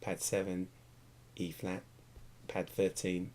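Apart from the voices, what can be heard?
No everyday noise stands out behind the speech.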